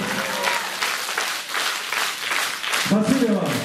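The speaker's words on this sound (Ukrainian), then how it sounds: "І так, ваші оплески." An audience claps in a dense, sustained wave of applause, and a voice starts speaking near the end.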